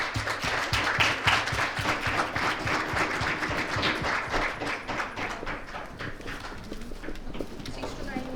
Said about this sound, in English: So a loud applause.